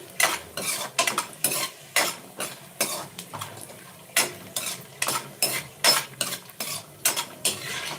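Raisins frying in a pan on a low flame, with a spoon repeatedly scraping and stirring against the metal in steady, close clinking strokes over a soft background sizzle, no voices.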